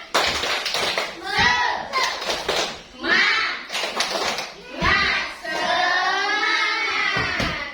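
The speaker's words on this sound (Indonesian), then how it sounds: "Kita tepuk semangat." A school class performs a rhythmic 'tepuk semangat' chant, children's voices calling out in unison between sharp bursts of patterned group clapping, close and lively.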